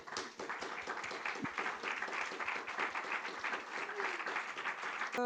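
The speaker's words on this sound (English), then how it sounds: "Please join me for a round of applause." Sustained applause from a crowd, dense steady clapping throughout at an even level, no voices over it.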